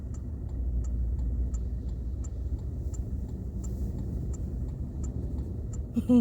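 Cars idle and creep forward in a slow traffic lane during a sandstorm along a palm-lined avenue in Namibia. A constant low engine and wind rumble fills the scene, with a soft regular ticking like a turn indicator above it.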